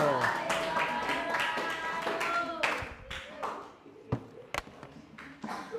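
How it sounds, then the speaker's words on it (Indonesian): A classroom gives a round of applause for a student group after their presentation: a short burst of scattered hand claps that thins into a few isolated taps, with talking over and after it. "Kita beri aplaus untuk kelompok 2"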